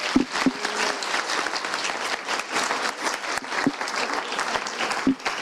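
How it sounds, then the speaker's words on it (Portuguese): A seminar audience breaks into sustained applause, a dense, even patter of many hands clapping nearby, with a few brief voices and cheers rising over it. "Uma salva de palmas para a Jéssica, meu povo, que é isso?"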